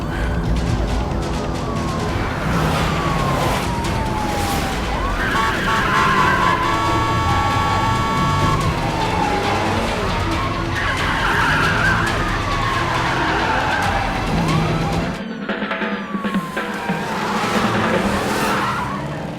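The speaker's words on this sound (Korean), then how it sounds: "다행히 너무 늦기 전 경찰차가 나타나며" A siren wails repeatedly through a dense chase scene, mixed with screeching tires, roaring engines and crashes, loud and continuous.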